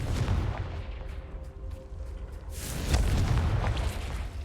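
A Confringo blasting spell goes off in Hogwarts Legacy, a single deep, rumbling explosion that erupts partway through and rolls on loudly over the game's ambient sound.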